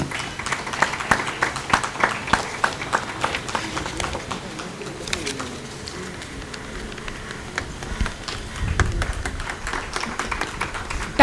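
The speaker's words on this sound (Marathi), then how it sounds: "टाळ्या होऊ देत प्लीज" An audience at a 2021 physicians' felicitation ceremony claps in a sustained, uneven patter of many hands, fairly close. The clapping dips briefly in the middle and then swells again near the end.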